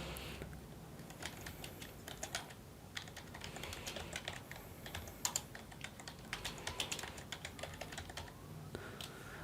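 Rapid, steady clatter of keys on a computer keyboard, close and fairly quiet, with irregular bursts of clicks running throughout and no voices.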